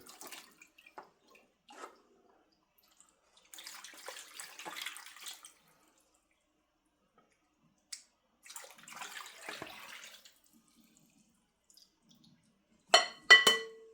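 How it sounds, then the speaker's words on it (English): Broth is poured into a pot and stirred while cooking pig's feet, heard as quiet intermittent watery pours and sloshes separated by silences, ending with a short louder clatter. "Next, you're going to add the broth as much as possible. Make sure that you stir it as you're adding it"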